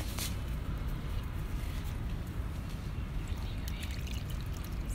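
Water is poured over vegetable seedlings, making a steady, continuous splashing hiss that stays level throughout, fairly faint and without any voices.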